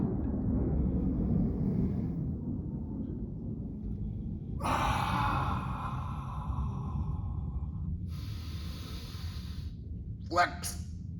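Heavy breathing during exercise training: a long, forceful exhale rushes out, followed by a second shorter breath and a sharp snort-like burst at the end, all close to the mic over a low steady background rumble.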